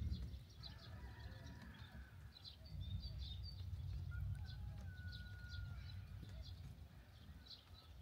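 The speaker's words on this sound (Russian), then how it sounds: "Вы слышите вот это бешеное количество птиц?" Many birds chirp and call in quick scattered bursts across the background, fairly faint against a low rumble, with a few whistled notes standing out.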